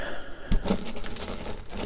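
Gold coins clink and jingle softly as they are handed over in a close, quiet Roman-themed ASMR scene, with light metallic taps and rustling.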